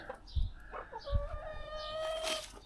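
Chickens and other fowl near a chicken coop give faint clucks and a drawn-out crow-like call over quiet background, with no talk.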